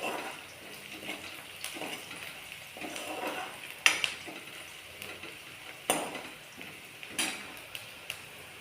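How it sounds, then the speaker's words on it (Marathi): Chopped onion roasting in a pan until reddish brown, a soft sizzle with intermittent clinks of a spoon stirring against the metal. "कांदा आपल्याला चांगला लालसर होईपर्यंत भाजून घ्यायचा."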